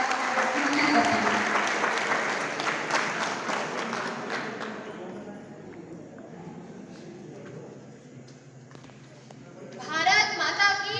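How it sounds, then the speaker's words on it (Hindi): Loud applause from a college audience welcoming a guest speaker, a strong burst of clapping that fades away over several seconds, followed by quieter room sound and a voice near the end. "जोरदार तालियों से आपका हार्दिक स्वागत करते हैं।"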